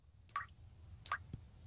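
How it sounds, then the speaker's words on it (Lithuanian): A leaking faucet dripping in a cartoon household, two faint separate drips about three-quarters of a second apart, each a short watery plink over a quiet background. "čiaupas laša"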